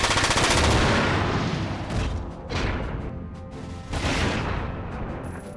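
Sniper gunfire in the PS2 game Front Mission 4, heard as dense, loud, continuous battle fire with repeated sharp blasts rising out of a constant roar.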